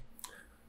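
A single short, soft mouse click while working in WinOLS software on a computer, faint and alone in a quiet room.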